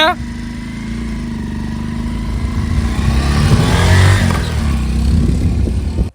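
A motorbike engine starts and revs in a rural spot, its low rumble rising and falling up close for several seconds while people talk over it.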